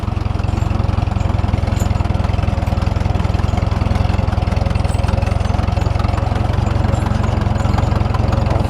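An Allis-Chalmers 170 tractor engine idles in snowy weather, a loud, close, steady low chugging with an even rapid pulse throughout.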